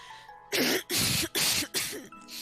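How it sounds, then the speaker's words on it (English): A person clears their throat several times in quick, harsh bursts separated by brief pauses, close and loud. "Now clear your throat uncomfortably."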